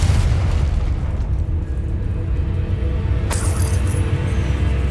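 Confringo fire spell blasts in Hogwarts Legacy, a continuous rumbling boom with a sharp crackling burst partway through, loud and close.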